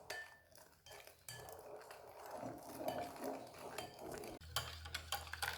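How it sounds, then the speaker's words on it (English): Milk is whisked into pastry cream mixture in a saucepan: quiet, rapid scraping and clinking of a whisk against metal, in irregular bursts with brief pauses, fairly close. "We keep on adding the milk and whisking in the same time until all the milk is finished"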